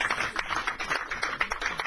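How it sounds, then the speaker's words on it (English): An audience at a corporate product launch gives a round of applause for a speaker, a steady patter of many hands clapping at moderate distance. "Please give Mrs. Stella Okoye a round of applause."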